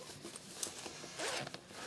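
A zipper on a textile motorcycle jacket is pulled in a quick, faint rasp lasting about a second, close up and with no talking.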